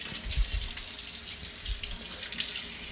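Tap water runs steadily from a faucet over a freshly cleaned small bluegill from a pond, a continuous splashing hiss with slight surges as the fish is rinsed; no talk.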